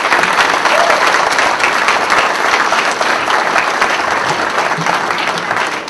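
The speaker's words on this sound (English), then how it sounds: "I think she deserves a round of applause." Sustained applause from an audience at a township bicentennial birthday celebration, dense steady clapping that stays loud and even throughout.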